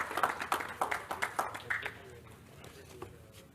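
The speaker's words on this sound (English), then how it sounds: "Please clap it up for our council members." A township audience at a State of the Township address applauds its council members: a short burst of brisk hand claps for about two seconds, fading into a quiet room.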